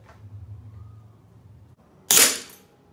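A Gamo Coyote air rifle fires one sharp, loud crack at a homemade metal target about 7–8 m away, following a stretch of quiet low rumble and handling noise.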